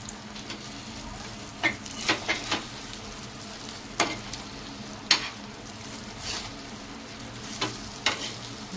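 Rava-coated surmai fish fry sizzles softly in oil in a pan, a steady low crackle broken by scattered scraping taps as pieces are turned, with no talking.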